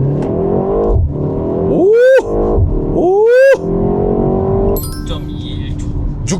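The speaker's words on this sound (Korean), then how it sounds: "시속 100km까지 가속부터 일단 해보겠습니다." Hyundai Avante N accelerating hard from a standstill toward 100 km/h, its turbocharged engine revving up in rising sweeps with brief drops at each gear change, heard close from inside the cabin, with a short excited exclamation from an occupant.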